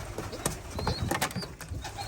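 Racing homing pigeons coo softly in a loft, low throaty calls with a few brief wing flaps, close and fairly quiet, no talking.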